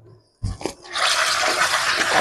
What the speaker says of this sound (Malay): Saya rendam air dulu.